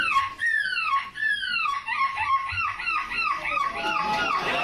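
A nine-year-old boy imitates a seagull call, giving a rapid series of high, wailing, yelping cries that sweep up and down, loud and close, with faint crowd noise beneath.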